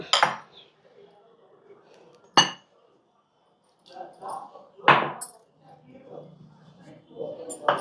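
Semolina and flour are stirred together in a bowl for jaggery gavvalu, giving sharp clinks of a utensil against the bowl between stretches of soft scraping, with someone talking over it.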